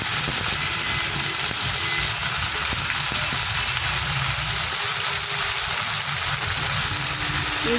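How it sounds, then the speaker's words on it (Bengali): Panch phoron and dried red chillies sizzle in hot oil with a steady, dense hiss that holds at an even level from start to finish. "এবারে আমি এখানে ফোড়নে দিচ্ছি পাঁচ ফোড়ন আর দুটো শুকনো লঙ্কাকে আমি হাত দিয়ে কেটে নিয়েছি"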